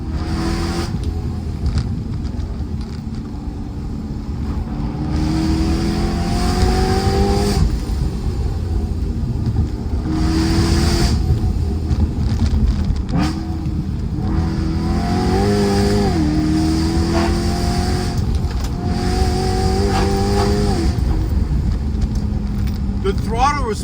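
A supercharged BMW M3 engine with individual throttle bodies revs hard again and again, rising and falling in pitch with a loud mechanical roar, while someone talks over it.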